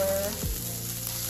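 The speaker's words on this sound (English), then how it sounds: "just gonna cook this down until it is crispy" Vegan bacon strips frying until crisp in a pan, giving a steady, close, continuous sizzle with a brief scrape of movement, no voices.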